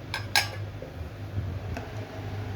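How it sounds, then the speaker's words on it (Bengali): A utensil stirs grated carrot in ghee in a pan for carrot halwa, with a few metallic clinks early on over a low steady hum. "গাজরের হালুয়ার জন্য ঘি দিয়ে আমি এটাকে একটু নেড়ে নিচ্ছি"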